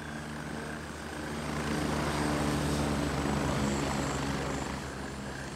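Helicopter in the military shooter Gray Zone Warfare, a steady loud rotor drone with a deep throbbing hum that swells slightly in the middle and holds throughout, no voices over it.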